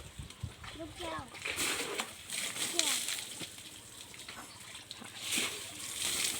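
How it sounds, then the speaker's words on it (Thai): Running water splashes and sloshes as an elephant is bathed, uneven bursts of spray coming and going while someone talks over it. "น้ำไหลค่อยนะคะ เลยเปิดน้ำแม่กำไรอาบนะคะ"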